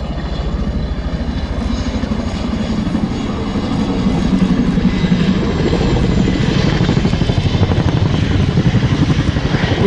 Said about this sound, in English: The Chinook is now expeditiously brought to the stop.